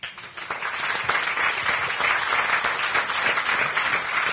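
A dense, steady wave of audience applause fills a Cannes festival award ceremony, many hands clapping together loudly and continuously.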